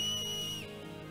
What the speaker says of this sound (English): It's called a whistle.